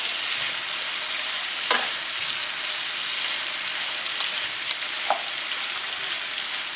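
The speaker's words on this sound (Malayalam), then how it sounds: "നന്നായിട്ട് വഴറ്റിയെടുക്കണം." Masala being sautéed in a pan for Malabar Thalassery fish biryani makes a loud, continuous sizzle close up, with a few faint scraping ticks of a spatula and no talk.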